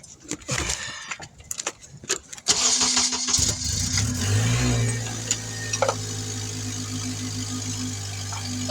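A 2005 Honda Accord engine cranks and catches after some clanks and handling noises, then settles into a steady, close idle that runs to the end.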